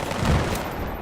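Burst of automatic gunfire during a Battlefield 3 firefight with an M27 IAR light machine gun, a dense and loud rattle of shots that runs through the whole second.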